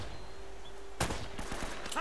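Gunfire in the video game Uncharted: Drake's Fortune, a sudden burst of shots at about one second followed by a few scattered, fairly close reports over steady game ambience.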